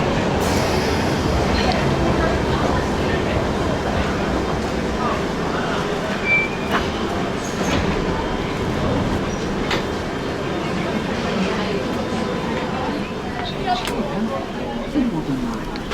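A London Underground Piccadilly line train runs through a tunnel with a steady, loud rumble and rattle, a few squeaks and clicks on top, while a voice speaks over it.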